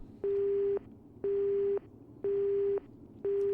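A steady telephone busy signal in Resident Evil Survivor repeats four times, each tone lasting about half a second with short even gaps, loud and close with no voices.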